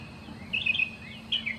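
A bird perched overhead sings in two brief bursts of bright, high chirping phrases, moderately near, over a quiet outdoor background.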